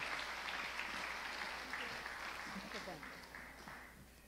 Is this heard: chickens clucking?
no